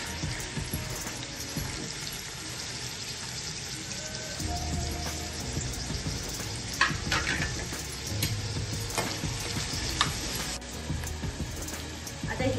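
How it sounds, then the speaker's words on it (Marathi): Sliced onion is dropped into hot oil in a pan for a Maharashtrian shevla vegetable curry and fries with a steady, moderate sizzle, along with a few clinks and stirring scrapes close by. "तेल गरम झाले आता आपण त्याच्यात कांदा टाकूया।"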